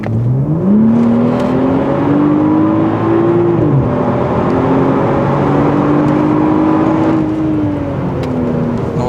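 A BMW X5 F15 with its exhaust flap open accelerates hard from about 50 km/h, the engine note climbing steadily through two loud, close gear pulls with a brief drop at the shift between them.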